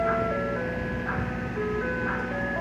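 A local ice cream truck plays a jingle at a low pitch, its looping melody loud and clear over a running engine hum, the repeating notes holding steady across the clip.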